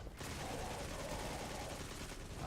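Rapid, continuous gunfire from an exotic weapon in Destiny 2, a loud unbroken burst of shots filling the whole moment with dense, crackling noise.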